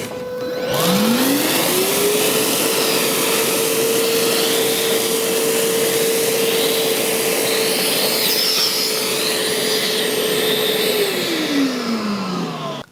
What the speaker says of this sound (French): la version systénaire de l'aspirateur chez Festool